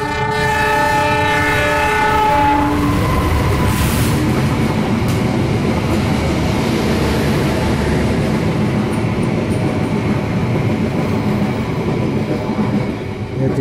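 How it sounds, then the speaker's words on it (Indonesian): An Indonesian CC 206 diesel locomotive passes close by, its horn blaring at the start over the loud, steady rumble and rattle of the engine and rolling cars, which continue throughout. "Kayaknya masih dengan lokomotif yang sama ya"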